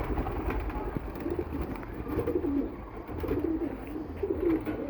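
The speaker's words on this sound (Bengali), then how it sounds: "ফয়সালের কবুতর আছে" Pigeons coo repeatedly in soft, low, throaty phrases, close by, over a constant background murmur.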